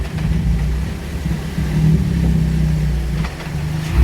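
A Hyundai Veloster N with a stage 2 clutch runs close by while gears are shifted through fourth and fifth, giving a continuous low engine rumble with slight swells and no talking.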